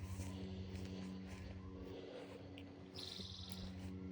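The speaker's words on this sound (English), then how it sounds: "It's so quiet and peaceful. All you hear is birds." Faint bird chirps outdoors over a low rumble of distant traffic, with a thin high whistle-like call partway through.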